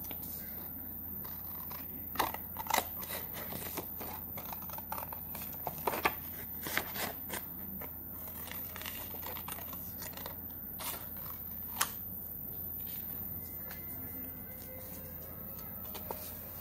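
Scissors snip through paper for a handmade Teachers Day craft gift, with a series of crisp, irregular cuts close up, punctuated by louder clips and light paper rustling in between.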